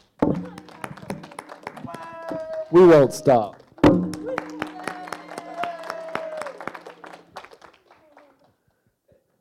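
A group clapping hands at a ministry school live gathering, with irregular claps and thumps throughout, a loud burst of cheering voices midway, then the claps thin out and fade near the end.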